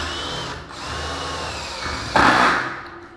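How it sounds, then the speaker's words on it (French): A power drill whirs steadily as it drives screws into metal drywall studs, close and fairly loud, with a brief dip in pitch and a harsher high-pitched surge near the end as a screw bites in. "et je viens visser."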